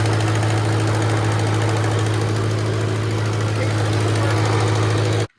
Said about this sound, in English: So I'm gonna warm up the engine and change the oil